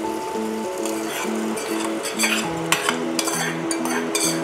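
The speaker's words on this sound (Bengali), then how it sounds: "এবার ফোড়নটা ভালোভাবে মিশিয়ে নেব।" A spatula stirring a sizzling spice tempering in a pan, soft frying hiss under a low humming drone, with scraping strokes and a few clinks of metal against the pan growing busier toward the end.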